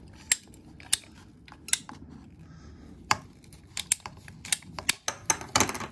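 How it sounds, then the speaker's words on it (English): Ratchet-style plastic pipe cutter biting through pipe, a close series of sharp clicking snaps, irregular at first then coming quicker near the end, against a quiet background. "if you're talking about using a cutter like this and you're making this cut"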